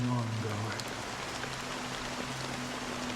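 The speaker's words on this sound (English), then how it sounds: "How long has this rain been ongoing?" Steady rain falls in the Honkai Star Rail video game, a soft, even patter that runs throughout beneath sustained musical tones.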